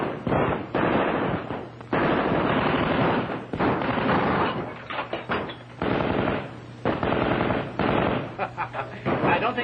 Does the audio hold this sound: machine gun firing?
yes